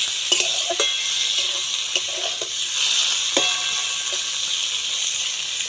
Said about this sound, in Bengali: আর একটু ভাজা ভাজা করে দেবো